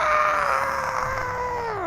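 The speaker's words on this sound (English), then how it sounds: "As Jarbo gets closer to the sword, he hears it yell and scream." An animated sword in a fantasy tabletop game lets out a drawn-out, wavering scream, a loud tonal wail that slides downward toward the end.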